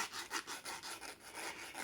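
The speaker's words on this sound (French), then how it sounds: "avec une lime fine, on va venir mettre le segment" Fine file worked slowly back and forth against a small engine's piston ring, a soft rhythmic rasping of repeated short strokes, close and quiet.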